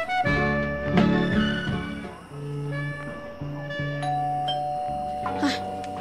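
A doorbell in an Ilocano radio drama rings in clear, sustained chiming tones that repeat several times at close range over a soft background bed.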